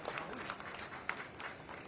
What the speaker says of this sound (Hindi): एक बार जोरदार तालियां आपके लिए